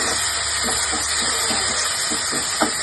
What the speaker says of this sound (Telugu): ఉల్లిపాయలు వేగిన తర్వాత టమాటాలు వేసుకోండి